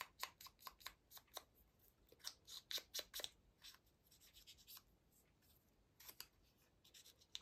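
Scissors snip through magazine paper in quick, close bursts of crisp cuts, pausing briefly before a final run of snips, with no talking.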